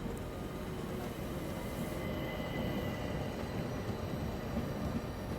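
The Orient Express steam train runs in a video game, a steady, dense rumble of rolling wheels and carriage noise that holds at an even level throughout, with no voices heard.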